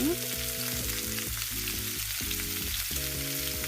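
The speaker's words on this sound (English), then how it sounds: "So I'm going to take a patty, I'm going to fry it really fast." A burger patty fries in a hot non-stick pan, sizzling steadily with a constant crackling hiss close by, with a low tonal hum rising and falling underneath.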